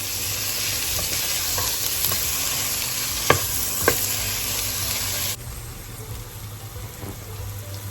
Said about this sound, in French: mes oignons, et je laisse caraméliser.